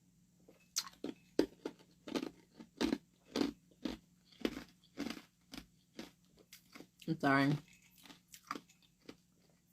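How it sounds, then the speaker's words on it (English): Crunching and biting on ice, a steady run of sharp, crisp chomps roughly every half second, close to the mic, with one brief spoken apology partway through. "I love chewing ice."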